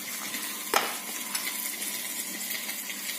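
Grated kohlrabi stirred in hot, smoking oil in a wok sizzles steadily, with a sharp clank of the spatula early on and lighter scraping knocks throughout.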